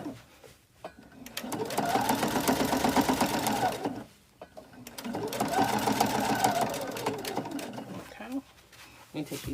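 A domestic sewing machine stitches a scrappy quilt in two steady, whirring runs of a few seconds each with rapid needle clatter, separated by a short pause; a voice speaks briefly at the start and end.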